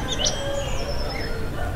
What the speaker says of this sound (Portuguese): A gente consegue escutar os pássaros